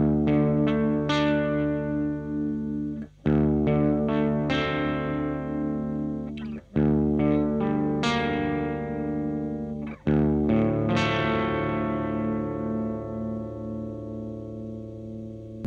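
An electric guitar plays through a Marshall amplifier with effects such as chorus and light drive, ringing chords and notes struck in several phrases with sustained decays and brief pauses between them, no talking.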